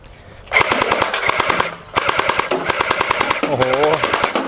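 M4A1 gel blaster in desert tan firing full auto, loud, rapid, evenly spaced mechanical bursts close by, with a brief pause between strings and a voice exclaiming over the last burst.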